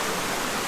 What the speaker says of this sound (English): the water as it's coming down the stream